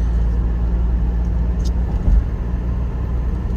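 A car drives along the Jammu to Katra road at about 80 km/h, giving a steady, loud low rumble of engine and tyre noise from inside the cabin, with no talking.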